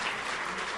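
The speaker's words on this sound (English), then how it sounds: "Yes, you can applaud that." Audience applause breaks out during a keynote at a widows' conference, a dense, steady wash of clapping heard from within the hall.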